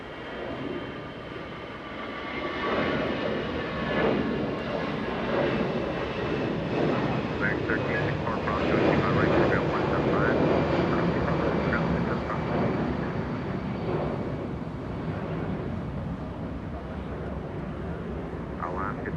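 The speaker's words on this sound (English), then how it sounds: "Alaska flying to Seattle, Washington, lifting off." An Alaska Airlines jet bound for Seattle lifts off at Los Angeles International Airport, a broad, sustained engine roar swelling and holding at a distance while a voice talks over it.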